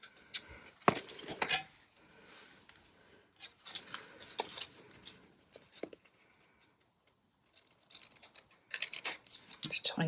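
Scissors snipping the last bits off a paper envelope, scattered sharp crisp cuts and scrapes in short bursts with quiet gaps between, close by.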